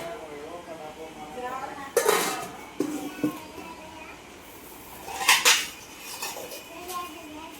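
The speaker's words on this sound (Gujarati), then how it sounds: "વાસણ સફાઈ અભિયાન ચાલુ કર્યું છે" Dishes and cutlery clatter and clink in a few bursts, with quieter scraping between them and faint voices in the background.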